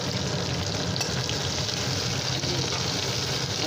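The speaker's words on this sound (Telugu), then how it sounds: "ఇది ఓన్లీ ఆయిల్లోనే కుక్ అవుతుంది అన్నమాట ఫ్రెండ్స్" Ridge gourd pieces frying in oil in a pan, a dense continuous sizzle with bubbling and light stirring, close and steady throughout.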